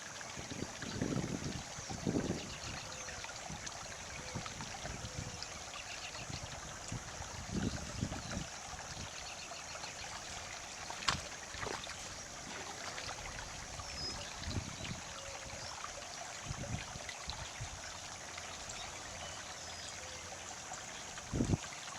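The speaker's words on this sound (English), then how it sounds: "This is the water running off the shore property into the orchard." Storm water runs off George Hill Road and shore property down into an orchard, a steady faint trickling wash under constant outdoor wind noise with a few soft bumps.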